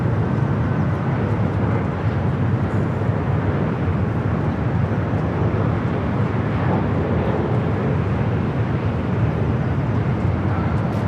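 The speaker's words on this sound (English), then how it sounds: "Got that Delta 767, you can hear it starting its taxi." Delta Boeing 767 airliner beginning its taxi at LAX, a loud steady broadband jet engine roar that holds constant throughout, mixed with wind noise at the microphone.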